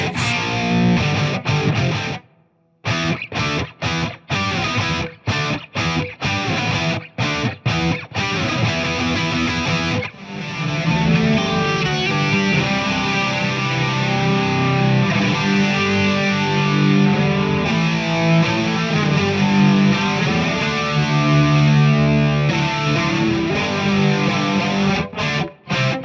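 A Gibson Les Paul Studio electric guitar plays palm-muted chugging riffs through a high-gain distorted amp. Choppy stop-start hits give way to a sustained heavy riff, loud and alone.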